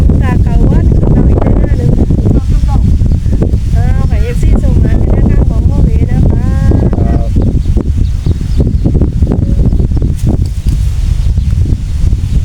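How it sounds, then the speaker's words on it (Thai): Strong wind roars steadily into the microphone, a dense low rumble under someone talking throughout. "ลมสุดยอดลมมาเลย"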